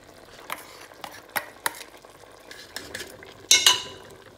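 Mutton korma being stirred in a pot with a spoon, giving scattered scrapes and clinks against the metal, then a louder rasp near the end, over a faint sizzle and no talk.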